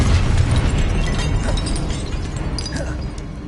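A Confringo fire spell goes off in a Harry Potter wizarding video game, a loud, dense explosive burst that rolls on with crackling debris and rattling mechanical clicks, slowly fading over a few seconds with no voices.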